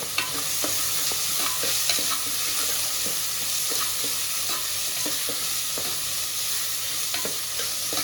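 Onions saute in oil for Kumbakonam kadapa, a continuous close sizzle punctuated by regular scraping stirs of a spoon against the pan, roughly every half second, with no talk.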